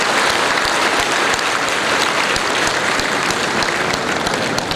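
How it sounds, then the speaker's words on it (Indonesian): Sustained, dense applause from a large audience at a university graduation ceremony, honoring the graduates' parents seated at the back; steady and loud throughout with no pauses. "berilah tepuk tangan untuk Bapak Ibu kalian yang di belakang"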